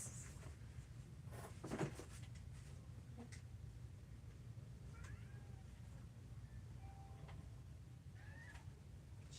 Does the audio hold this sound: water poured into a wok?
no